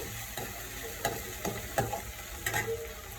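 Prawns fry in a pan until brownish, with a continuous soft sizzle broken by regular scraping strokes of a stirring spoon, close and moderately quiet.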